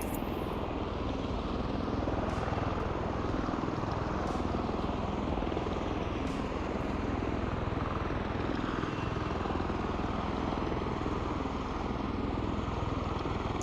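An Osprey tiltrotor aircraft's engines and propellers drone steadily and loudly in Microsoft Flight Simulator, a dense, unbroken roar close by for the whole stretch with no talking.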